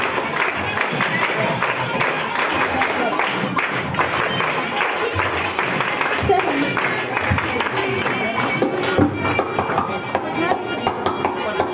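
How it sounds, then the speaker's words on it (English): Children applaud at a school National Science Day celebration, a dense, continuous patter of many small hands clapping close by and steady for the whole stretch, with some crowd murmur mixed in. "give a big round of applause"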